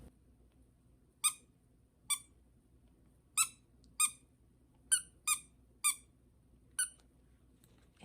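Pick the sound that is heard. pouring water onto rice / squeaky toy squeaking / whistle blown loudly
squeaky toy squeaking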